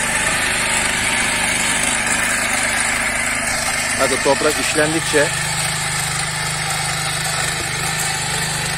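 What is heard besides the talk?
Kaan 26S motor tiller engine running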